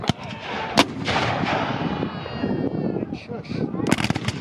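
A musket volley crackles out at a Civil War battle reenactment of Little Round Top, several sharp overlapping shots popping near and far amid outdoor crowd noise, with faint voices in the background.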